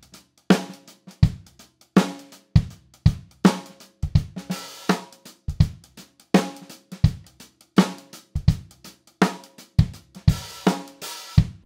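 A halftime shuffle groove on a drum kit, kick landing on beat one and snare on three, with swung cymbal strokes in between, repeating steadily and played alone at close range.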